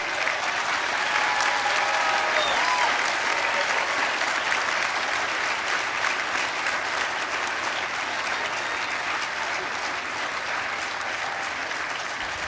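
Sustained, dense applause from a large commencement crowd honouring the graduating class, steady and full for the whole stretch without talk over it.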